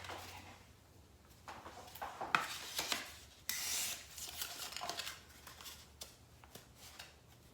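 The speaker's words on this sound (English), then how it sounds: "So I'm gonna slice it right here and a little bit right here." Blade slicing through foam while trimming Little Mermaid party decor, heard as quiet, close scraping and rasping strokes in short irregular bursts.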